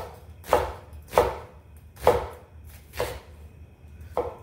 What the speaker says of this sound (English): if you look at the onion and you cut it this way, you're gonna automatically get the thin slices that you're looking for